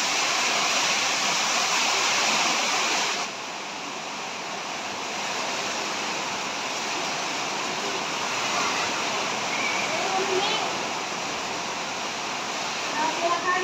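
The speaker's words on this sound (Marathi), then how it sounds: "आणि आता मी पाणी टाकते पहा" Water poured out during a demonstration with two colours of kumkum, a steady broadband splashing rush that is loudest in the first three seconds and then continues more softly throughout.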